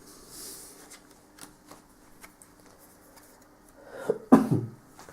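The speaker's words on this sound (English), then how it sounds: "Sorry about all the coughing." A person coughs several times in a quiet room, with a faint card-shuffling rustle and small taps before a louder, rough close cough and throat clearing near the end.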